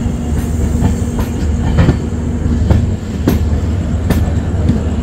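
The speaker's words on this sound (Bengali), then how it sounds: "ওফ, কি আওয়াজ। আর এদিকে দেখো ট্রেনের কার্ভ, ট্রেন যে ক্রসিং হচ্ছে তার কার্ভ।" The Sairang–Kolkata tri-weekly express rumbles over a track crossing, heard from on board, with a steady low roar and a run of sharp, rhythmic wheel clacks at irregular intervals.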